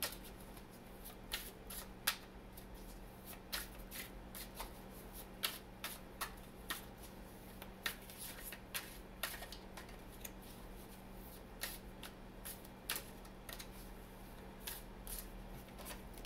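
Tarot cards are shuffled by hand in a quiet room, a long run of soft, irregular riffling flicks and taps over a low steady hum, close and fairly faint, with no talking.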